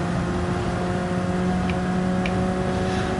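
Car engine driving in the racing game Gran Turismo 7, a steady humming drone with sustained tonal whine and a couple of faint short ticks, heard alone at moderate volume.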